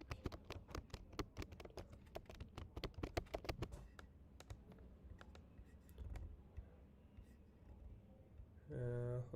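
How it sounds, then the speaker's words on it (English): Typing on a computer keyboard, a rapid run of close, clicky keystrokes that thins out into scattered taps before a brief humming noise at the end. "I can type."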